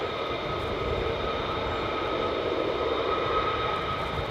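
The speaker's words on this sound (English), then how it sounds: "one of the slowest takeoffs I've ever seen from a C17" A Boeing C-17 military transport aircraft on a slow takeoff at RAF Lakenheath, a steady, loud, continuous engine roar and whine heard from a distance, with no talk.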